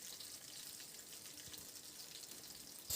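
Onion and green chilli pieces fry in hot oil for an Andhra-style curry, a faint, steady sizzle with soft crackles throughout and a brief louder pop at the end.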